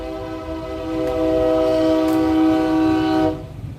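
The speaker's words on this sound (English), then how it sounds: "Train coming by confirmation." A train passes with a loud, sustained horn blast of several steady tones over the rumble of rail wagons, building up and then cutting off abruptly near the end.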